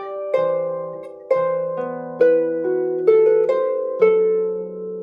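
Harp playing a rising left-hand chord pattern under a repeated right-hand figure, plucked notes ringing and overlapping as the bass steps upward through five or six attacks, close and clear with no voices.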